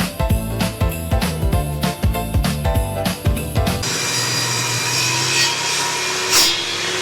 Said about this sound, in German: Auch wenn Sägen Spaß macht, das hier zu sägen war jetzt ein bisschen blöd.